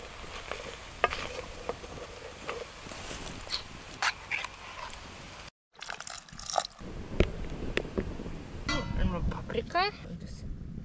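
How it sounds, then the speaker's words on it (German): Onions and carrots fry in a pan on a camp stove during a bicycle tour in Cuba, a soft crackling sizzle interrupted by stirring and scraping. Voices talk over it at times. "als erstes jetzt erstmal Zwiebeln und Karotten anbraten"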